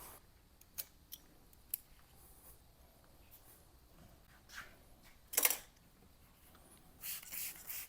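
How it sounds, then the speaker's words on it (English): Close, quiet snips and scrapes of a blade trimming out a vinyl decal for a mini skid steer, a few sharp isolated cuts followed by soft rubbing and a louder slicing stroke near the end. "So I've got to trim this one out too."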